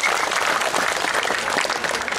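A crowd at a Balinese cultural event in Sesetan, Denpasar applauds, steady and fairly loud clapping that fills the whole short stretch.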